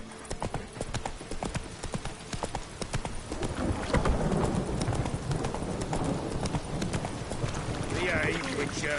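Roach, a horse in The Witcher 3, gallops with fast rhythmic hoofbeats that grow denser and louder over a game soundscape, with a brief whinny-like sound near the end.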